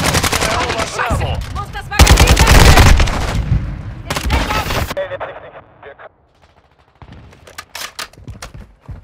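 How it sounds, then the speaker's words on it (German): Call of Duty multiplayer gunfire: loud, close rapid automatic bursts and single shots that thin out into scattered cracks, with in-game voice announcements underneath. "Stehe unter direktem Beschuss!"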